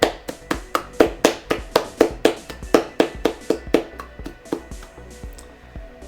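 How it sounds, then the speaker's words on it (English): A single person's hands clapping in a steady, even rhythm, about sixteen sharp claps in quick succession that grow slightly softer toward the end, heard close and alone without voices. "So I'd like to give them a special round of applause."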